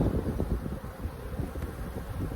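Bees crowd a beehive box during a hive inspection, their dense low buzzing steady and close throughout with a soft rush of wind noise over it.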